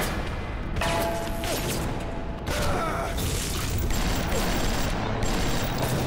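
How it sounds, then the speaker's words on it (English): Machine gun fire in the video game Bioshock, a dense stretch of rapid gunfire with booms and mechanical clatter running throughout, loud and continuous. "I'm gonna stick with the machine gun."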